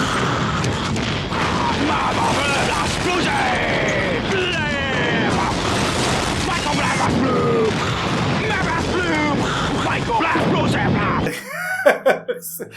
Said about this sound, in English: You shoot cars. Sometimes the cars explode without you shooting them.